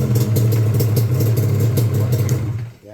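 A Yamaha Banshee ATV engine, just repaired after having no spark, runs with a steady, buzzy mid-pitched drone and rattly clatter, fairly loud and close, then cuts off abruptly at the end.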